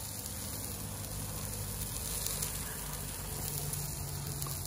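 Bacon sizzles steadily on a Kamado Joe grill beside brioche buns and smashburgers, a close, continuous crackling hiss holding at an even level throughout with no talking.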